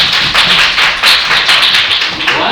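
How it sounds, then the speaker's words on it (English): Students in a classroom clap for a classmate during a maths lesson. The close, loud burst of hand claps is quick and uneven and lasts a couple of seconds. "Give Tina a round of applause."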